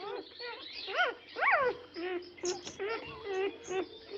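A Yorkshire Terrier lets out a run of high, rising whimpers and short yaps in uneven bursts, close by and fairly clear.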